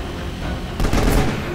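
Rapid burst of gunfire from Prompto's weapon in the action game Final Fantasy XV Episode Prompto, a short dense crackle over steady game background noise, fairly close and loud.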